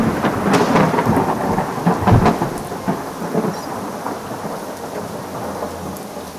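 Steady heavy rain with deep rumbling thunder rolling through, dense and constant, the thunder swelling early and fading into the downpour.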